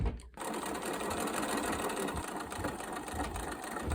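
A sewing machine stitches the folded edge of a jeans pocket, starting after a short pause and then running in a fast, steady mechanical whir up close, with no talking.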